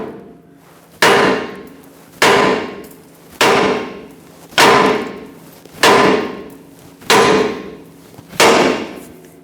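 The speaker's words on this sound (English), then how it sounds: "grab a large hammer, tap right here, and that should separate the stud from the Pitman arm" A large hammer strikes the steering linkage of a Ford E-350 van to free the Pitman arm stud, giving six loud metallic blows at a steady interval of about 1.2 seconds, each ringing briefly before it decays.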